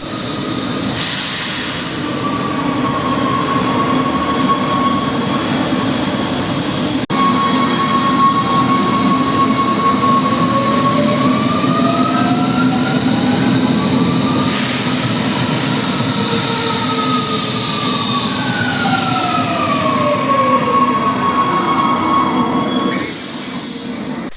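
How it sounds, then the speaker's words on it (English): A Rome Metro Line B subway train runs loud and close, with wheels squealing in long rising and falling tones over a steady rumble. "And here is Rome Metro Line B."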